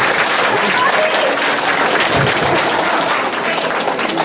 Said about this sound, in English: Let's give Robbie another round of applause.